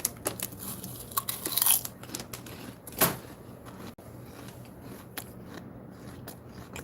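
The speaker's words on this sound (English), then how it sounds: "Sorry about the chewing." Someone chews food right at the microphone, giving irregular crunching and biting bursts with one louder crunch near the middle and softer mouth noises in between. No one speaks.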